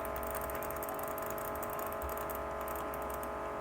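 A butterfly knife is flipped slowly, giving a run of quick metallic clicks and rattles close up, with faint background hum and no talk.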